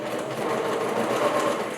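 Close, steady whirring of a sewing machine running a broad stitch (length set at 5) through yoga bolster fabric, continuous for the whole short stretch.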